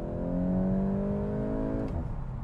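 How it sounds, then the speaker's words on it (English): A 2022 Volkswagen Golf GTI engine revs in manual mode with a steadily climbing tone, then drops sharply at a DSG upshift with a brief popping burble before settling lower. "it does a little bit of fart on the upshift with the DSG"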